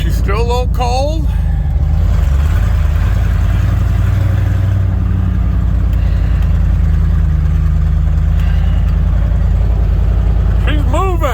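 A long-idle Ford F-350 truck, still cold, rumbles steadily as it runs and drives, a loud low engine drone throughout with voices talking briefly at the start and end.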